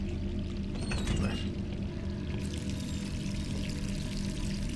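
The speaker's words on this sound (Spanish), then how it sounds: "Cierra el grifo." Water running from a tap inside Jill's run-down apartment in the Resident Evil 3 Remake game, a steady, close pouring hiss that continues throughout.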